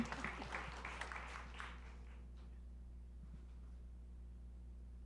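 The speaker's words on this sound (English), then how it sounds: "that deserves applause" A panel audience at a market launch event claps briefly, a faint patter of applause that fades out within two seconds, leaving a low steady hum.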